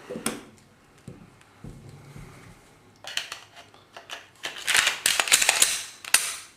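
A Glock 26 pistol being reassembled, with soft handling thumps at first, then a rapid run of sharp metallic clicks and snaps as the slide and parts go back together, close and distinct.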